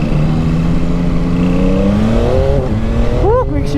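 A motorcycle engine with a quick shifter revs up close, its pitch climbing steadily before snapping down and rising again through fast gear changes.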